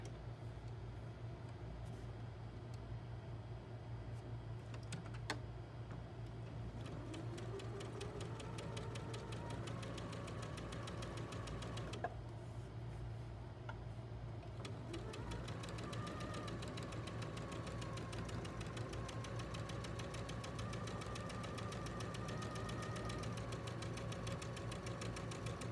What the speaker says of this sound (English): And now sew down the other side.